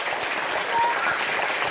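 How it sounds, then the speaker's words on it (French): A children's audience in Yopougon claps in a dense, even burst of applause, brief and steady throughout with a faint cheer mixed in. "On applaudit comment?"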